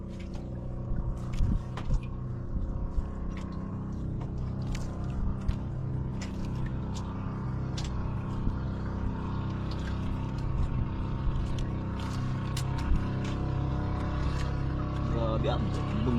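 A steady low boat engine drone runs throughout on a fishing trip, chugging along, with faint voices now and then over the noise.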